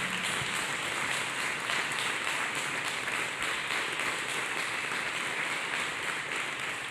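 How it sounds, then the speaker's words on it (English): A church congregation claps hands together, a dense, even roar of applause sustained throughout with no pauses and no speech. "Let us clap hands for Jesus Christ"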